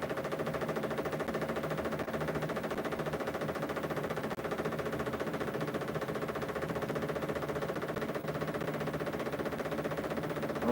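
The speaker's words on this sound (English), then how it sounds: "is the iron core that's thumping on the ground as as the electricity pulses through the coil" Iron core of a pulsed solid-state coil thumping against the ground as electricity pulses through the coil, a dense, rapid, steady stream of buzzing thuds that runs continuously at an even level with no talking.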